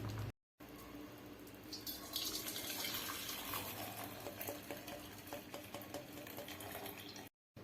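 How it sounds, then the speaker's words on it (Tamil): Water pours and gushes steadily from a pot of cooked rice into a strainer, a continuous splashing stream heard up close. "இந்த ஸ்டேஜில் இந்த தண்ணியை மட்டும் வடிச்சிட்டு ரைஸை தனியாக எடுத்துக்கிடுவோம்."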